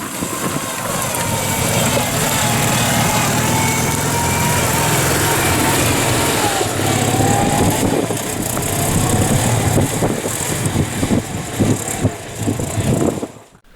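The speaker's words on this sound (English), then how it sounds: "643cc horizontally opposed flat twin rear-mounted air-cooled engine, the Hafflinger" Small air-cooled 643cc flat-twin engine of a Haflinger off-roader, rear-mounted, driving over rough off-road ground in the Yorkshire Dales, a steady buzzing drone throughout with bumps and clatter, fading near the end.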